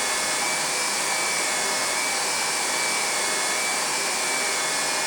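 A hot air heat welding tool blowing steadily while it seals a seam, giving a loud, unbroken hiss and whoosh with no voices over it.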